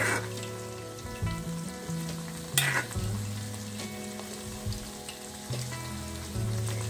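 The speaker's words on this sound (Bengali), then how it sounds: "আমরা চিকেনগুলো খুব সুন্দর করে ভেজে নেব" Chicken popcorn pieces deep frying in hot oil, a steady dense sizzle and crackle with occasional louder pops and stirring clatter, close and continuous with no talking.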